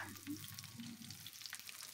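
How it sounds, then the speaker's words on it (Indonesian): Candlenuts, garlic cloves and shallots dry-roast in a pan, giving a faint, quiet crackling sizzle with light stirring scrapes that rise and fall briefly. "Lanjut kita sangrai 11 butir kemiri, 5 siung bawang putih, 5 siung bawang merah."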